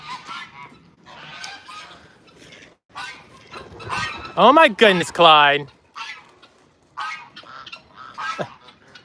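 Geese and other poultry at an animal sanctuary break into loud, close honking calls in a short raucous burst, with a person talking before and after.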